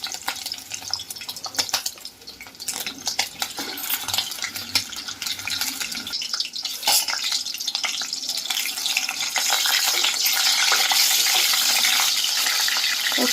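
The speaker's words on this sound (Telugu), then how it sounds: "లెగ్ పీసులు కదా వేగిపోతాయి తొందరగా." Chicken leg pieces fry in hot oil with a steady sizzle that builds and grows louder and denser toward the end, broken by scraping stirs, no talking.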